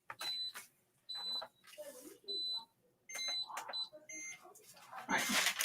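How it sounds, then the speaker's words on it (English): Electronic beeps from a device at a sublimation printing setup, several short high-pitched tones in quick groups with gaps between, moderately loud and close, while a person speaks in between. "Stop beeping at me."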